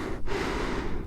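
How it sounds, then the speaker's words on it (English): Close, muffled breathing inside a motorcycle helmet while riding toward North Cape in Norway, with steady wind-like rush and a brief dip in the noise. "I am so sorry for the breathing noise."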